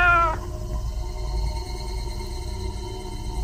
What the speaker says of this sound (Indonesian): Eh, ada kucing.